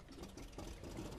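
A sluggish boat engine in the video game Far Cry 2 drones steadily with a low, uneven chugging rumble, moderately loud and continuous throughout, with no talking over it.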